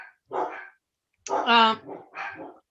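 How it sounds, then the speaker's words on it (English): Several dogs barking in short bursts at close range, with pauses between barks, in a kitchen during ice cream making. "Oh, my dogs decided to bark."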